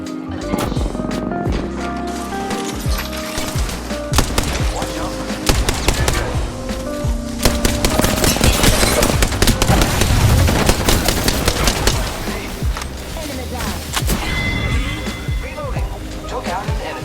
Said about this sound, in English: I am taking fire, friends. Firing.